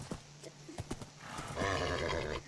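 Minecraft horse sounds: a few quick clip-clop hoof thuds followed by a loud, trembling whinny, close and alone without talk.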